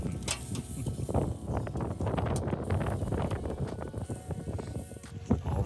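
Gusty wind buffets the microphone outdoors at a cold, rainy winter campsite at night, a steady rough roar with rustling bursts rising and falling throughout.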